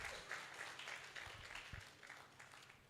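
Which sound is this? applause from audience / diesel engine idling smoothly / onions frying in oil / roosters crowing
applause from audience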